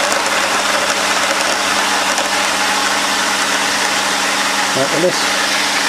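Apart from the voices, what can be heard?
pump running after priming, controlled by Pumpstat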